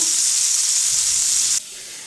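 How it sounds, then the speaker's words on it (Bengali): Koi fish fry in hot oil until browned, a loud, close, steady hiss of sizzling that abruptly drops away to a faint background near the end. "মাছগুলো লাল করে ভেজে নেব"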